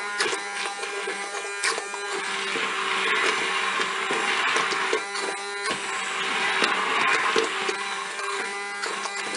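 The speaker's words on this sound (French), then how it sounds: "Allez, c'est parti pour mixer." Cookeo multicooker whirring as it blends an apple and nectarine compote, a steady buzzing motor drone that rises and dips slightly in pitch over several seconds, with no voices.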